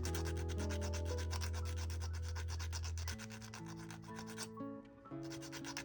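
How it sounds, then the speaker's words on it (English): Fine sandpaper rubs against a small miniature paintbrush handle in fast, even, repeated strokes, faint and close, with a steady tonal hum or music underneath. "sand it with fine sandpaper, and if you want it to be even finer, you just keep sanding until it's the shape you want it."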